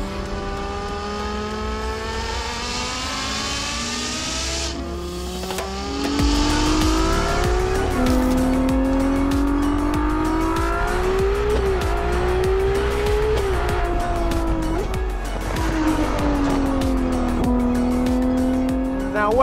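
A Porsche Carrera GT or Ferrari Daytona SP3 drives hard nearby, its engine note rising and falling through repeated revving sweeps and gear changes, loud and continuous with tire noise underneath.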